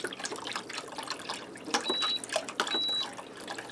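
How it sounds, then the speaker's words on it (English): Beef broth pours into a Power XL air fryer grill pot, a steady trickling splash of liquid heard up close for a few seconds. "I'm going to add in 4 cups of beef broth."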